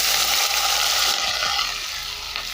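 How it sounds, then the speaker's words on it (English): Rice poured into hot oil in a pan for a Sossi soya dish, a loud close crackling sizzle that eases slightly as it settles, with no talking. "So once my oil is hot, I'm going to go in with my rice"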